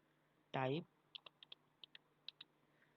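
Light clicks from a computer keyboard as someone types Python code, about nine quiet, evenly spaced taps following a brief vocal sound, otherwise in a very quiet room.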